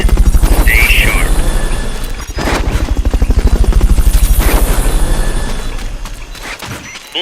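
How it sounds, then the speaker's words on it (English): A helicopter in the video game Metal Gear Solid: Peace Walker, with a steady, rhythmic rotor chop that runs loud and close for the whole stretch, easing briefly in the middle and fading near the end, with faint voices beneath. "Fulton recovery subject confirmed onboard helicopter."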